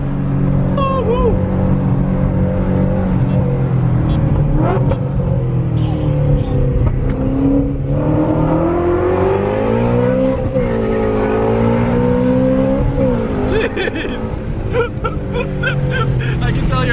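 A Ford Mustang GT350 engine roars and revs hard on a dyno, loud and continuous with rising and falling pitch, while people talk excitedly over it.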